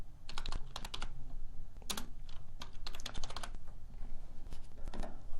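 Typing on a computer keyboard, quick close clicks in uneven bursts and pauses over a soft background hum, without any talk.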